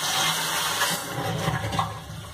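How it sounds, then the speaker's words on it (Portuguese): A toilet flushing up close, a steady loud rush of swirling water that holds throughout without letting up. "Aí deixa eu dar uma descarga aqui no vaso."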